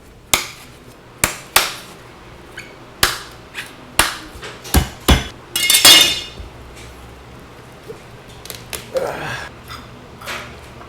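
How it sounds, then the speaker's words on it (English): A fresh coconut being struck open with a series of sharp, separate knocks and cracks at uneven intervals, with a short cluster of rattling impacts midway, close and loud over quiet background. "I'm gonna open one coconut."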